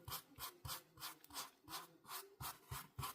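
A brush scratches black-brown paint outward into a bleached sand-colored area, making about a dozen quick, evenly paced rasping strokes, close and faint, with no talking.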